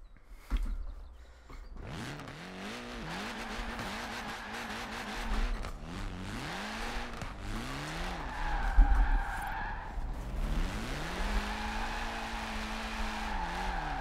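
A Mitsubishi Evo in Forza Horizon 4 revs hard and shifts gears while its tires squeal in long skids, with loud, continuous engine pitch rising and falling through the whole stretch.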